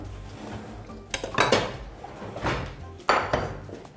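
A small cooking pot is picked up and set down, giving a few sharp metallic clanks and knocks in quick succession over a low room hum, close by and without speech.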